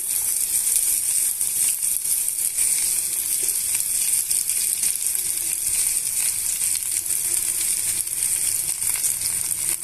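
Onion and green chili pieces sizzle in hot oil for a potato tempering. The frying is a steady, loud crackle that continues without a break.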